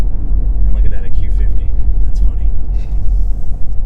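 Steady low road rumble inside the cabin of a 2020 Infiniti QX50 SUV while driving, a muted, even drone with faint higher engine and wind hiss throughout.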